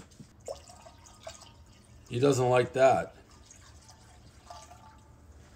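Room temperature water poured into a goldfish's bowl in a short splashy burst in two pulses, loud and close, with someone talking before and after.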